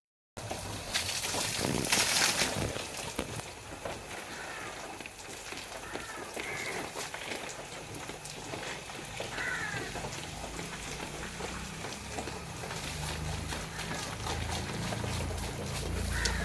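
Water splashes and hisses as the sit-out floor of a home is washed. The spray is continuous and fairly soft, with no talk over it.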